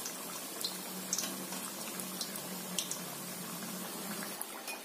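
Mathri dough fries in hot oil, a dense, steady hiss with a soft bubbling texture and scattered faint pops, with no voices over it.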